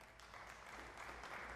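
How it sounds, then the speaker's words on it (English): Faint, steady applause from a crowd at a Citizens Bank all-associates meeting, a dense wash of clapping that holds evenly for a moment without any talking. "y'all give yourselves a round of applause"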